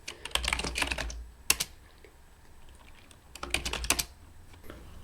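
Bursts of fast typing on a computer keyboard, close and crisp, come in two clusters of rapid clicks with a few isolated keystrokes and quiet gaps between them.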